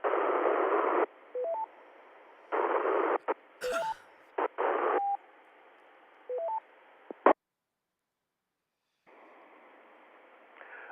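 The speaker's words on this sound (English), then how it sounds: "we're getting courtesy tones over your transmission" A VHF amateur radio net transmission carries repeater courtesy tones: short beeping tone chirps over bursts of hissing radio carrier noise, with abrupt keying clicks and a stretch of silence between transmissions.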